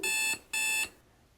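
An alarm clock sound effect from a sound pack app: two bright electronic beeps, each about a third of a second long, separated by a short gap and followed by quiet.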